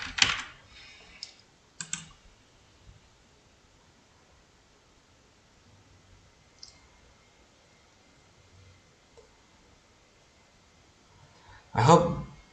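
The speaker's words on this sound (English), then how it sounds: "And now type let's type United States versus Russia." Short bursts of keystrokes on a computer keyboard, a quick clatter at the start, another near two seconds, and a louder run at the very end, with near-silence in between.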